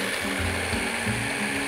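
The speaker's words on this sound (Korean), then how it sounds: "두세 번에 걸쳐서 갈게 될 텐데 일단 한 번 정도 갈아주시고요" Blender whirring in a short steady burst as it grinds garlic, pine nuts and olive oil for pesto, a loud close mechanical drone with a shifting low pitch.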